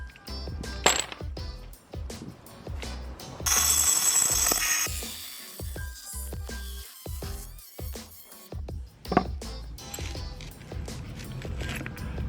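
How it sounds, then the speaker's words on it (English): Milwaukee 12V cordless cut off tool slicing dry through sheeted mosaic ceramic tile, a burst of high grinding whine in the middle amid clicks, taps and handling noises, with no talking. "Let's now try some sheeted Mosaic ceramic."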